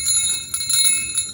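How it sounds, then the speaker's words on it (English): A small Krampus bell rings close by with bright, sustained metallic tones, shaken in several quick jingling strikes that ring on and overlap. "I'm not sure what the actual, like, heritage is around the Krampus bell"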